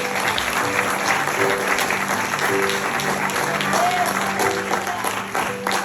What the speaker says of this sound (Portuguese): Vamos aplaudir o Senhor.